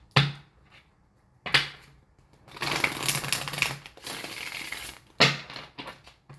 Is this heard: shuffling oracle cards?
yes